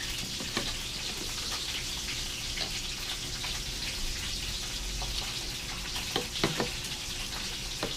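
Steady crackling sizzle of food frying in a pan, with a few louder pops and spatters near the end.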